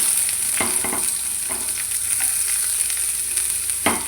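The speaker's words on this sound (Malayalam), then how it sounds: "ഇതിലേക്ക് നമ്മൾ അരിഞ്ഞു വെച്ച ഉള്ളി ചേർത്ത് കൊടുക്കാം" Steady, loud sizzling of chopped onions frying in hot oil, a continuous hiss with occasional soft crackles and a stirring scrape, no voices.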